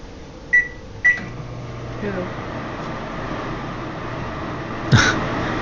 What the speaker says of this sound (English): Put this big bowl in the microwave.